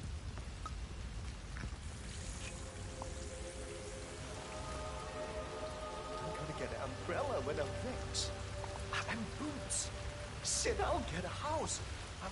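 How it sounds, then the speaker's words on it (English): Rain falls outside in Hitman 3, a steady hiss of drops with a low rumble, while voices talk over it in the latter half. "Going out in the rain again."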